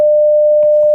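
A phone's steady electronic tone after a call is hung up, one loud, unbroken pure beep held for just under a second.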